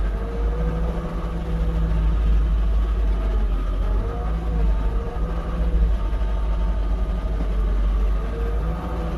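A 2019 Caterpillar 226D skid steer driven back and forth, its diesel engine droning loud and steady with a deep low rumble and shifting tonal whine as it moves, no talking.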